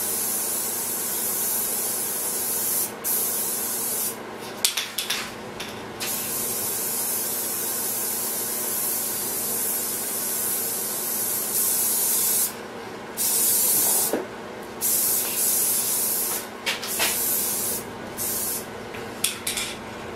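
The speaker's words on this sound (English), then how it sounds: "That's why I like this clear coat in the aerosol can." Aerosol can spraying clear coat onto a taxidermy habitat build, a steady close hiss running through with short gaps where the nozzle is released and pressed again.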